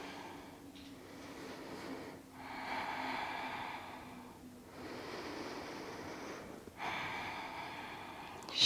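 Slow, deep breaths during a yoga pose, long airy inhales and exhales alternating in a steady rhythm, close and moderately loud with no talking.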